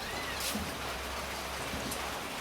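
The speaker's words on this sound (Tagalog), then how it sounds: "Nag-uumpisa na pong umulan." Soft, steady patter of light rain just starting to fall on a surface, a faint continuous hiss with scattered drops.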